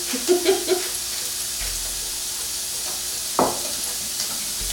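Sausage browning in a pan alongside a breakfast bake crust gives a steady soft sizzle, with a few stirring scrapes near the start and one sharp utensil knock partway through.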